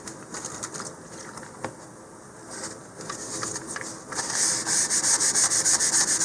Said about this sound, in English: I'm just going to wipe that down with a little bit of rubbing alcohol